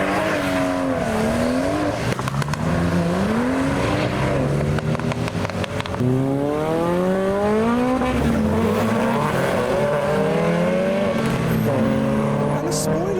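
Modified cars, one after another, accelerating away from a car show in heavy rain, engines revving and rising through the gears with shifts, loud and close, under faint background voices.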